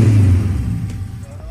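A Honda Civic with a new exhaust, its deep, loud engine rumble close by at first, then easing and settling over a second and a half.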